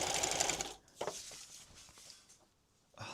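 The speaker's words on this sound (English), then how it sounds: "Check we are actually stitching." A sewing machine stitches a box cushion for a Transit Connect van bed, running in a loud steady burst for under a second, then stopping, with a short restart near the end.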